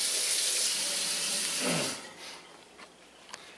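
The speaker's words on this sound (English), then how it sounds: "I rinse my knife off." Tap water runs into a kitchen sink as a knife is rinsed, a steady broadband splash for about two seconds before the flow cuts off, followed by a few faint clinks and a small knock.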